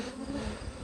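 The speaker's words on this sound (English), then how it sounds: "Sure as heck full of bees" Dense, steady buzzing of many bees swarming close by at a hive, a continuous droning hum with no voices.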